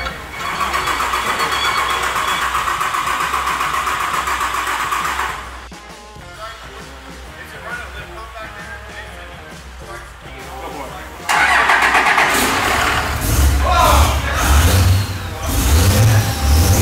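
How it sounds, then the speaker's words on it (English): An old Cummins diesel truck engine cranks, fires up and revs, loud and close, with a rough idle between throttle blips and a heavier surge of revving near the end. "That's the old Cummins diesel I like to hear."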